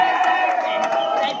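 Grêmio supporters at an under-11 football penalty shootout in the Piauí championship against Racing keep up a steady, distant roar of crowd noise, with a voice talking over it.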